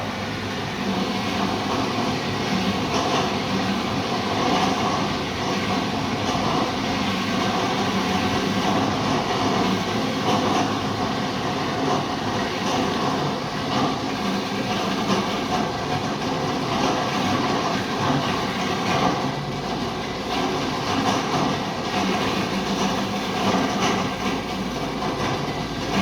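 A ROBOT COOK cutter machine runs continuously while processing pasta dough, a loud, steady motor whir and churning drone that holds unchanged throughout.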